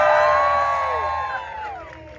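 A Disneyland crowd at a Deadpool holiday story time show cheers and whoops together, a loud swell of voices that gradually fades.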